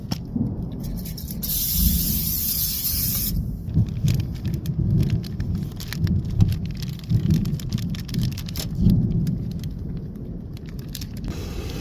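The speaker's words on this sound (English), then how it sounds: "it figures now it decides to rain" Steady heavy monsoon rain pattering on surfaces at an Arizona lake campsite, with a loud hissing stretch early on and a constant dense drumming throughout.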